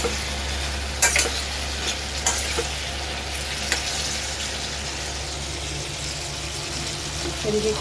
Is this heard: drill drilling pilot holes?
no